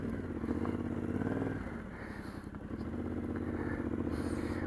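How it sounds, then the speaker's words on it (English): A Yamaha Ténéré 700 (T7) twin engine rumbles steadily while riding slowly over rocky rock-garden terrain, with a continuous low throb and some clatter, fairly loud and constant throughout. "But the T7 motor, it's just so torquey."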